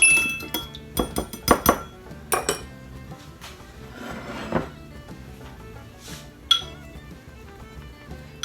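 Glass and metal clinks as dried parsley topping is stirred in a bowl for cheddar biscuits, with irregular sharp chinks and clatters, some clustered in quick bursts, close and fairly loud with no talking.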